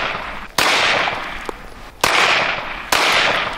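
Three loud, sharp gunshots crack from behind an RTS tactical ballistic shield, unevenly spaced, each with a short ringing decay into the range's ambience.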